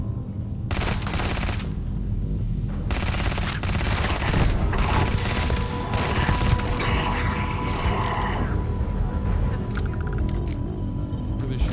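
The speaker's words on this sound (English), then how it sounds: "they're shooting from above" Video game gunfire in a detective shooter: loud bursts of automatic fire in long blocks, separated by short gaps, over a constant roar of game sound and a low hum.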